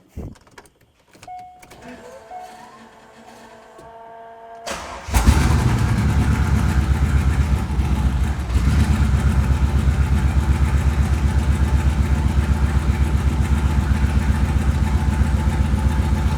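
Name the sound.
Corvette engine running after thermostat swap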